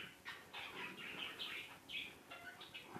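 A one-month-old budgerigar gives a rapid series of faint, high, scratchy chirps that run almost continuously for about three seconds.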